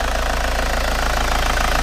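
A Vauxhall Omega 2.2 DTi diesel engine idles with a steady, even chug and light rhythmic ticking, close and loud, with no other sounds over it.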